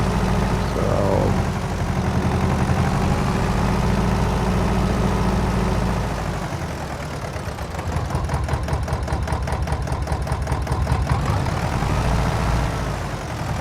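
Tractor engine of a T25 idling in Farming Simulator 22, a steady continuous rumble that shifts in tone around the middle and carries on without speech.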